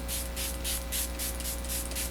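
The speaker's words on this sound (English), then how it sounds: "I'm just going to spray on a little bit of antioxidant toner" Quick repeated pumps of a facial spray bottle misting antioxidant toner onto skin, about eight short hissing bursts in an even rhythm, close and fairly loud with a steady low hum underneath.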